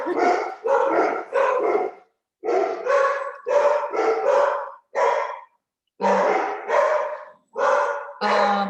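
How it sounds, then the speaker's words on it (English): Dogs bark at home in a continuous volley of sharp, loud barks in quick bursts, with a few yips, carrying on for several seconds without talk. "I'm at home and I have dogs in the background."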